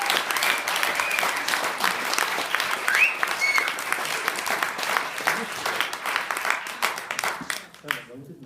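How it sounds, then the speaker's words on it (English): Wedding guests applaud the bride at her reception, a dense, steady round of clapping that fills the room and tapers off near the end, with voices mixed in. "And I'd like to give you a round of applause."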